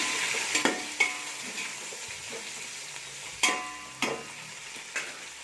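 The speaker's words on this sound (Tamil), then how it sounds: "சேர்த்து நல்லா மிக்ஸ் பண்ணி வதக்கிக்கோங்க." Mint and coriander sauté with mutton biryani ingredients in a pan, a steady soft sizzle broken by several distinct scrapes and knocks of a spoon stirring against the pan, close up and without speech.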